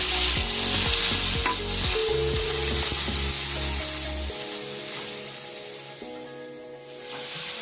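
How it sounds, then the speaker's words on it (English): Chilies and other ingredients for Mangalorean squid sukka frying in a pan, a loud continuous sizzle and hiss with stirring scrapes throughout, close and steady. "Let it fry for 3 to 5 minutes."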